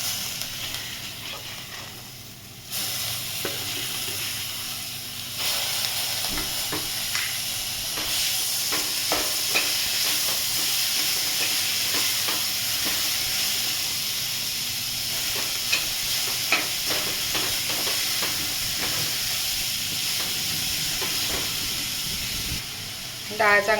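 Moong dal roasts in a hot pan for a spicy dal curry, a continuous sizzle and hiss with repeated scraping stirs throughout, close up, with occasional faint kitchen noise.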